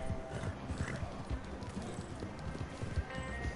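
Horse hooves clip-clop at a steady galloping rhythm in the video game Red Dead Redemption 2, with a brief whinny, fairly close and moderately loud, with no talk over it.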